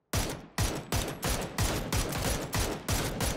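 Gunshots in the video game PUBG, eight loud, close, evenly spaced single reports with short ringing tails, firing in a steady rhythm with no talking over them.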